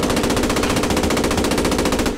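Tank cannon firing a Napier round in the video game Post Scriptum, heard as a dense, continuous rapid-fire burst at steady loud level for about two seconds, with no talk.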